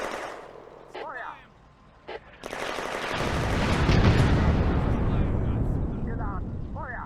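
Machine gun and rifle fire in the WWII video game Firefight on the Eastern Front erupts into a loud, dense, rolling barrage after a few sparse shots, with brief voiced commands between.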